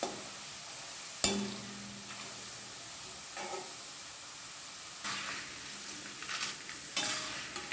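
Jackfruit chips fry in hot oil with a soft crackling sizzle, broken by occasional scraping clatters as a ladle stirs them, close and fairly quiet.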